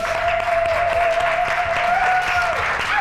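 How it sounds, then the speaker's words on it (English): Audience giving a standing round of applause at a closing ceremony, dense sustained clapping at full volume for several seconds with a tonal whistle or feedback line running beneath. "give him a round of applause of appreciation"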